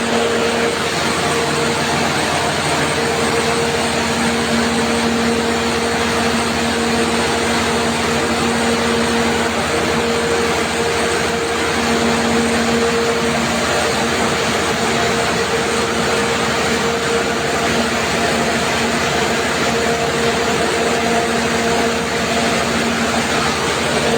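A generator at a madrasa runs steadily during a power outage after a cyclone, giving a loud, constant engine drone with an even hum that carries on unchanged throughout.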